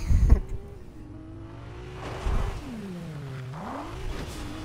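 A Ferrari's engine hums and revs in Fortnite, its pitch rising and dipping as the car accelerates and slows, fairly close, following a brief thump at the start.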